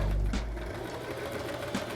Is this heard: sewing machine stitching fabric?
yes